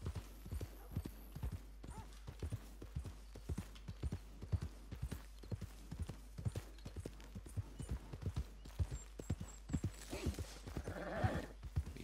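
Steady clip-clop of horse hooves at a riding pace in Red Dead Redemption 2, regular close thuds running throughout, with a brief whinny-like sound and rustle near the end.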